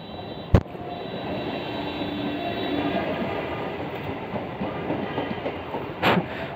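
An electric train on a metro line in Kanpur rolls past nearby, with a steady rumble and rhythmic clatter of wheels and sharp clanks near the start and end.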